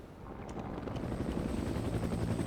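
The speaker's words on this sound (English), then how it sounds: "Huey is standing by, waiting for the Green Berets to come in." Huey helicopter hovering in a Cold War video game, a steady low rotor throb and engine drone that holds at an even level throughout, with no talk.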